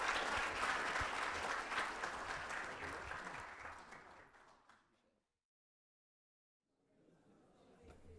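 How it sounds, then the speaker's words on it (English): Audience applause at a business conference, dense and steady for about four seconds, then fading to silence before a softer burst of clapping returns. "Can we have a round of applause?"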